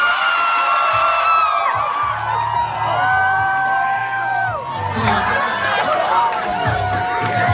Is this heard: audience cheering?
yes